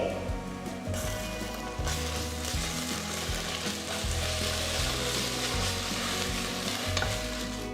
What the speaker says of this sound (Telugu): ఈ పాయింట్లో నేను రెండు టీ స్పూన్ల అల్లం వెల్లుల్లి పేస్ట్ వేస్తున్నాను